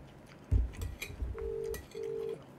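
A telephone rings twice in short electronic tones, with quiet handling and chewing-like noises before it, all fairly faint and close.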